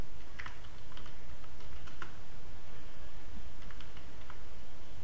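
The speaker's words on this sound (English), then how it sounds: "So I'll type in" Someone types a command on a computer keyboard, a close, quick run of light key clicks in small bursts over a faint background hiss.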